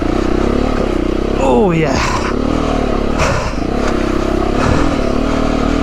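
A trail motorcycle grinds through mud on a solo ride, its loud engine droning steadily close by with a brief rising whine as the wheel spins, plus scraping and clattering; someone speaks briefly over it.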